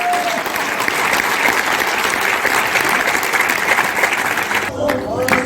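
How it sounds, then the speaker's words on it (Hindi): A seminar audience applauds loudly and evenly for several seconds, the clapping dense and sustained before a voice briefly cuts in near the end. "एक बार तालियां बजाते सभी साथियों के"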